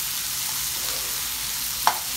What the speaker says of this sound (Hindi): इसको 1 से 2 मिनट के लिए अच्छे से स्टर करेंगे